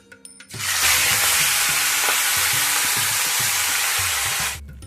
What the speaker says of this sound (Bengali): তেলটা গরম হচ্ছে, তেলটা যেই গরম হয়ে যাবে মুড়োগুলোকে সব ভেজে নেব।